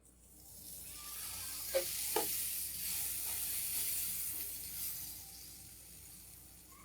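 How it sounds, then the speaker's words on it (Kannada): Butter sizzles on a preheated tava with a soft, even hiss that swells and slowly fades. A couple of faint clinks sound near the start, and no one speaks. "ಫಸ್ಟು ಸ್ವಲ್ಪ ಬಟರ್ ಹಾಕ್ತಾಯಿದ್ದೀನಿ ತವಕ್ಕೆ"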